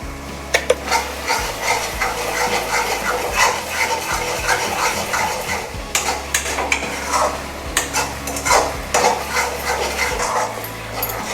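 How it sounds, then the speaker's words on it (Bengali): Spice masala being stir-fried with chicken feet in a pan with a little water and sugar, the spoon scraping and clinking in steady irregular strokes over a low background hum, close and fairly loud, with no talk. "মশলাটা ভালোভাবে কষানো হয়ে গেছে"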